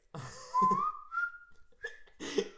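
A person whistles a few rising, sustained notes between short bursts of talk, close and fairly quiet.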